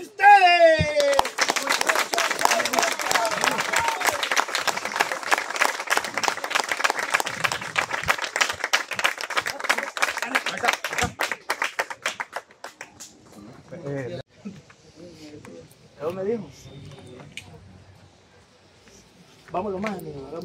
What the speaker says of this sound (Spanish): Despidámoslo con el aplauso de ustedes